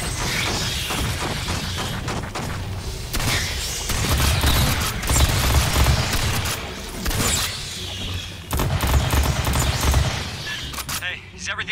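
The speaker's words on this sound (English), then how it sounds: "Okay, I heard gunfire." Gunfire in Aliens: Fireteam Elite crackles in dense bursts over a continuous noisy soundscape, with chaotic clattering layered across the whole stretch.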